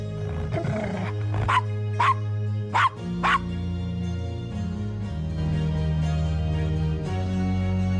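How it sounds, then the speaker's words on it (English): A dog in the Gabriel Knight: Sins of the Fathers adventure game barks four short, sharp times over a steady low musical score, then the music carries on alone. "Nice doggy."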